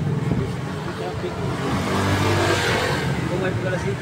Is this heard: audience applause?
no